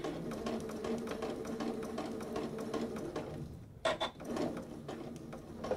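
A sewing machine runs steadily while stitching a Hong Kong seam finish, a continuous mechanical whir with rapid needle ticks, briefly pausing and restarting near the end, heard alone at close range.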